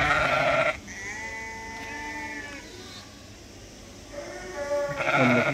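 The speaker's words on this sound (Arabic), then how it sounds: "جوج معيجات والدات خرفان معروضات للبيع الاخوان" Ewes and their newborn lambs on a farm near Tetouan bleat close by in several long wavering calls, one after another, with a quieter gap between them.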